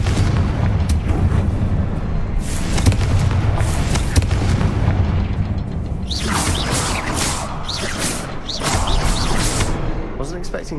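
Confringo blasting spell explosions in a video game, a series of booming bursts and crackling blasts over dense, continuous game noise, with louder detonations in the latter half.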